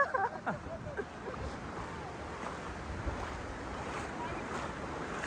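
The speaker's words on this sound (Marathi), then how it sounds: "तुम्ही हे लाटा बघा हे लाटा हे आले बघा" Rough ocean waves on the Konkan coast surge and wash in a steady, noisy roar with gusty wind buffeting the microphone.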